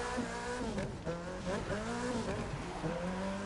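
A car in the video game The Crew 2 slides and drifts on snow, engine revs rising and falling in repeated sweeps while the tires skid, loud and close throughout.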